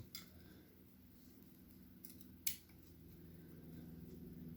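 One quiet, crisp snip of scissors cutting through a strand of yarn on a crocheted bucket hat, a single brief click in an otherwise hushed room.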